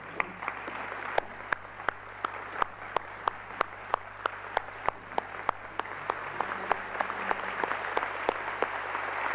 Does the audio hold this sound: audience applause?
yes